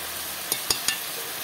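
A ground paste of cumin, coriander, dried chilli and ginger gets stirred into a frying pan, three quick scraping strokes over a low, steady sizzle.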